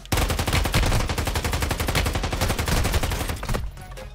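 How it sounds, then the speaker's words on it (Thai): Rapid automatic gunfire in the mobile shooter Warzone Mobile, a loud, dense stream of shots at a fast, steady rhythm that runs for about three and a half seconds before easing off. "ฝั่งนู้นเขายิงมาว่ะยิงจากข้างบนเหรอ"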